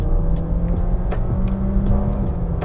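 Engine of a 2019 Honda Accord 1.5 L turbo on kick-down, a steady rumbling drone that stays loud and dense throughout with no talk over it.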